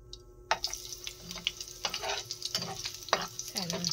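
Onion sautéing in a pan for sardine pansit bihon, with close sizzling and frying crackle broken by several bursts of stirring, moderately loud throughout and no talking.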